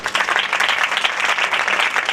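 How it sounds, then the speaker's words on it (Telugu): A church congregation breaks into sustained applause, many hands clapping densely and evenly from start to finish, fairly close and loud with no voices. "మనందరం ఒకసారి చప్పట్లు కొడదాం."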